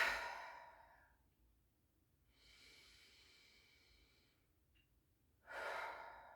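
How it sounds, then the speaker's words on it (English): Slow deep breaths during a yoga session: a long airy exhale, a quieter drawn-out inhale, then another breathy exhale, all close and gentle with no talking. "A few more of those nice deep breaths. Inhale and exhale and just let it go."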